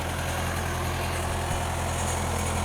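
A Massey Ferguson tractor pulls a class trailer along a homecoming parade route, giving a steady low engine rumble under broad outdoor noise.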